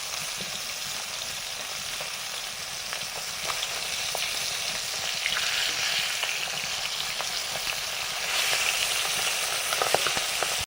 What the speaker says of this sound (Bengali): মাছগুলো খুব সফট হয়, এখানে ধীরে সুস্থে উল্টাতে হবে।